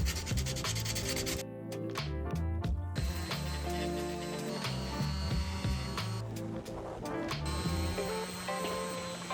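A sander works on a competition axe head at close range, giving a loud, continuous buzzing grind with brief pauses and changes in pressure.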